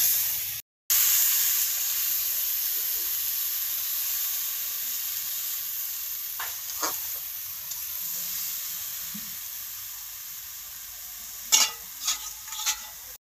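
Vegetables fry in a spiced masala in a pan with a steady close sizzle and hiss, broken near the end by a few sharper crackles and stirring scrapes.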